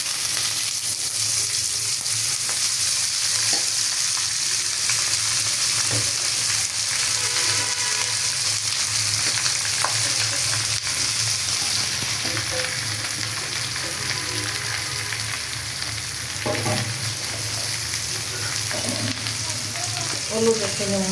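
Shredded cabbage fries in a pan on a home stove, giving a loud, steady, close sizzle with intermittent scraping and stirring clatter throughout, and no voices.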